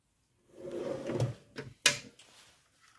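A tool box drawer slides open and shuts in a workshop, a short scraping glide followed by a sharp closing clunk, close and alone.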